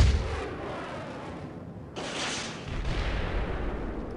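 An air bomb strike in Civilization IV lands as a rumbling, artillery-like blast with a roaring burst midway, loud and continuous with no speech over it.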